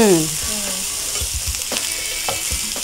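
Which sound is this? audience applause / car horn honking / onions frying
onions frying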